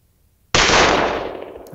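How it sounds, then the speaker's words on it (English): A single AI-generated gunshot sound effect: one sharp, loud blast after a short silence, followed by a decaying tail that fades over about a second. "Gunshot."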